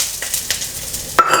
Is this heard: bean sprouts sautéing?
yes